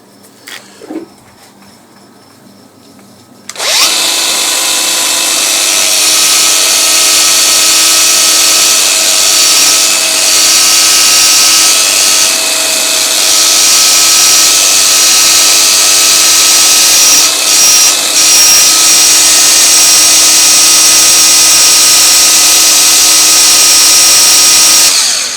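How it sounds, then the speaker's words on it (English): An angle grinder buffs old bolts, starting up after a few seconds of near quiet and then holding a loud, steady high whine close by for the rest of the time. "Again, it's for an angle grinder. It's like kind of buffs it up quite nicely."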